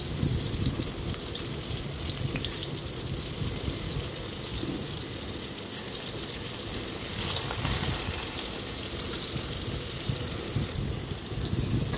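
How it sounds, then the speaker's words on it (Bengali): Potatoes fry in hot oil and are turned over side to side, a loud, continuous dense sizzle and crackle lasting the whole stretch with no talking. "আমি এপিট ওপিট উল্টে উল্টে আলুগুলো ভেজে নিচ্ছি।"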